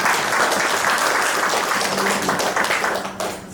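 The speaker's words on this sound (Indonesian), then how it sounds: "Tepuk tangan dulu untuk Bapak." An audience at a government ceremony in Kaimana gives a sustained round of hand clapping for an official, dense and even throughout before thinning slightly at the end.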